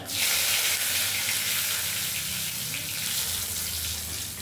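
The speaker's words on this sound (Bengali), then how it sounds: "শুকনো লঙ্কা ফোড়নে দিলাম।" Radhuni, cumin, bay leaves and a dried red chilli tempering in hot oil, a strong steady close sizzle with a watery, hissing texture, constant and unbroken.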